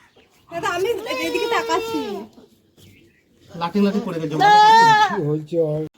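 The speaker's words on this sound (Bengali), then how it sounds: "মুনুর কেমন আওয়াজ হচ্ছে" Goat bleating loudly and close, two long wavering cries separated by a short pause, the second louder and ending in a brief extra call.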